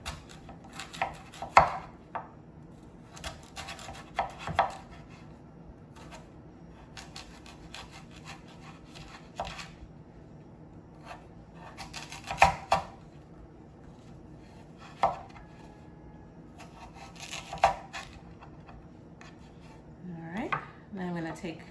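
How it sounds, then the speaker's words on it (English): A knife cuts sweet potato into bite-sized cubes on a board. Soft, close chops and scrapes come at irregular intervals, quiet and a little uneven, with a faint low background between strokes. "And I'm going to cut it into cubes"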